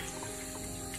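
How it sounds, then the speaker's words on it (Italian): Syrup of water, sugar, lemon and lemon peel being poured over peaches in a jar, a soft, steady liquid stream running continuously and quietly with no voices. "gli mette lo sciroppo."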